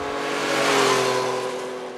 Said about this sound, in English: And the exhaust note, the exhaust is right by your foot there. It's kind of pleasing, a little bit snarly